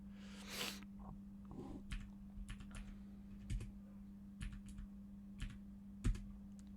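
Keys clack on a computer keyboard in quick irregular bursts, with scattered single presses over a faint steady hum while a program in C is being used.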